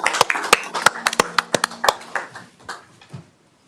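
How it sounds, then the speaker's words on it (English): A round of applause at a city council meeting, scattered sharp hand claps from a small audience, quick and uneven, thinning out and fading over the last second. "Give her a round of applause."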